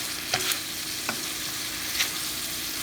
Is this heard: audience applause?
no